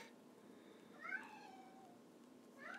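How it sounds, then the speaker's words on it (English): A male cat meows and cries to be let outside: one drawn-out wavering cry in the middle, then the start of another at the end, fairly faint against a quiet room. "It's my cat. He's actually crying and trying to get outside because he thinks he's a dog."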